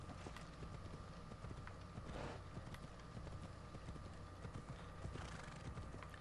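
Steady rhythmic hoofbeats of a galloping horse in Assassin's Creed Odyssey, clip-clopping continuously over a dense, noisy game soundscape with a faint neigh in the mix.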